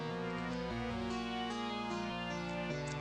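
A quiet instrumental hip hop beat plays continuously, with layered sustained synth chords and deep bass notes shifting every second or so, no voices.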